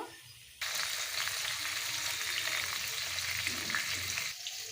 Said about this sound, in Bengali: একে একে সব মাছগুলো ভেজে নেব